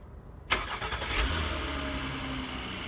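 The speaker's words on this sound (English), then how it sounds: "And your car is started." A 2019 Honda Odyssey minivan engine starts by remote start: a sharp starter crank, then a brief rev that settles into a smooth, steady idle, heard close and without talk.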